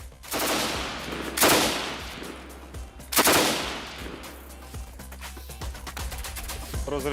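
A machine gun fires on a range in two loud, heavy bursts about two seconds apart, each ringing out over steady background noise before trailing off, with faint voices in between.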